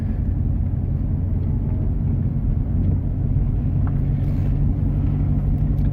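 A manual stick-shift car cruises in second gear, heard from inside as a steady, loud low engine drone and road rumble with no talking.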